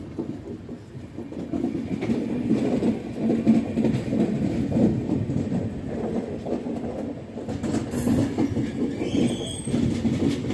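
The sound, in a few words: Kamayani Express train track sound after Bhopal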